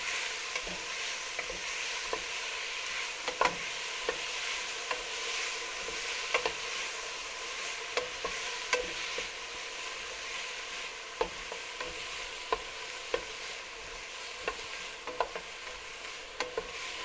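Onions sweat over lowered gas in a pan for leek and potato soup, a soft steady sizzle broken by repeated scraping clicks of a spoon stirring them, close and unvoiced.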